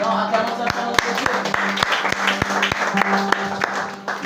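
A church congregation at a French-language Sunday service applauding in rhythmic unison, sharp regular claps ringing out over a sustained sung or spoken tone, loud and full.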